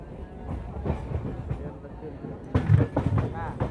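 A crowded local passenger train on the Ranchi to Purulia line, in the Ranchi and Adra divisions near Kotshila Junction, rumbles and clacks steadily, with voices talking over it and a louder clattering surge toward the end.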